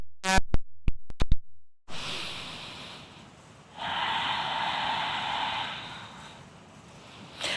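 Slow, deep breathing during a power yoga flow in bridge pose, a few sharp sniffs and short breaths up front, then a long steady airy exhale and inhale, close and fairly quiet with no talking.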